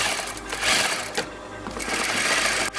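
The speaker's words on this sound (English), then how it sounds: "I'm going to straight stitch it." A sewing machine hums close and steady while straight-stitching a refashioned garment, running continuously with slight speed changes and a brief stop near the end.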